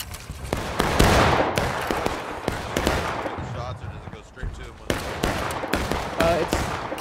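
Musket gunfire in the War of Rights Civil War battle game, scattered sharp cracks of shots near and far firing irregularly amid battlefield noise, with voices talking over it.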